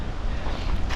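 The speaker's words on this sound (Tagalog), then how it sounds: "Ngayon sobrang hangin talaga, ang lakas." Strong wind gusting across a rainforest campsite in Tanay, a loud continuous rumbling roar buffeting the microphone throughout.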